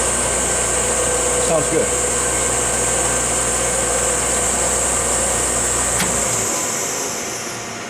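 Glebar PG-9BHD centerless form grinder running with a loud steady machine whine and hum, a clunk near the middle, then the low end drops away as it begins to coast down; a voice briefly speaks.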